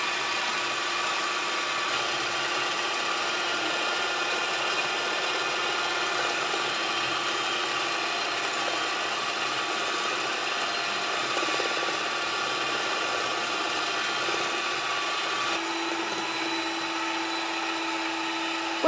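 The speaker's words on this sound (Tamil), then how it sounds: "கொஞ்சம் கொஞ்சமாக சுகரையும் சேர்த்துட்டு பீட் பண்ணிக்கோங்க." An electric mixer beats egg whites with sugar for rose cupcake icing, a continuous even motor whir with a steady pitch, running without pause and with no voices.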